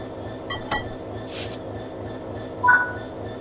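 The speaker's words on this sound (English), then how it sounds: "Now uncouple the wagons, either on foot or using the external camera." Wagons are uncoupled in the Train Sim World 4 video game, with sharp metallic clinks and clunks of the coupling over a steady low engine rumble, plus a brief hiss of air, no talk.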